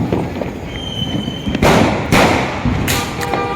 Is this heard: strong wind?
no